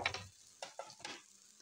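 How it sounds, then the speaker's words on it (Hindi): Boiled peas stirred and frying in a pan, a few faint scraping strokes and soft sizzle bursts close by, with no talk. "इनको भी फ्राई कर लेती हूँ"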